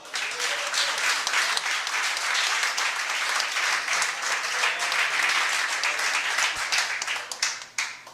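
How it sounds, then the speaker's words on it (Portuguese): A church congregation claps in praise during an evangelical service, dense sustained clapping filling the room at an even level before it thins and fades near the end. "As palmas louvam ao Senhor Jesus."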